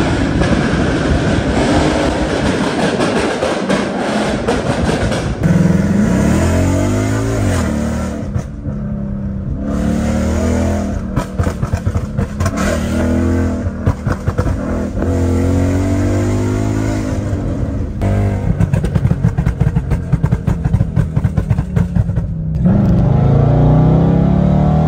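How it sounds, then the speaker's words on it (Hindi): A modified Ford Mustang's engine roars through repeated loud revs, climbing and dropping for over twenty seconds, close and dominant with a harsh, rumbling exhaust and no talking. "बहुत ज्यादा लाउड है यार ये कार।"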